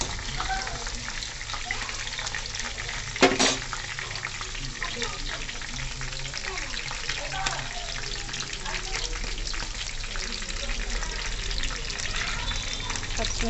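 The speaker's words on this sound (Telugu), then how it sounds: "పచ్చిమిర్చి ఫ్రై అయినాక" Green chilies frying in hot oil for a chicken gravy, giving a steady close sizzle with light crackle and one brief clatter near the start.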